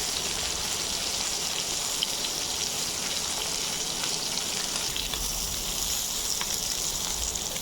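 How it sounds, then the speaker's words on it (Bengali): Rohu fish frying in hot oil until brown gives a faint, steady crackling sizzle that runs evenly without pause. "আমি আজকে ব্রাউন কালার করে ভেজে নেব।"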